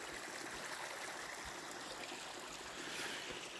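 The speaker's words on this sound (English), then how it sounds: "A stream down here." A small stream flows outdoors along a walking route, an even, faint, continuous trickling rush with no other clear sounds.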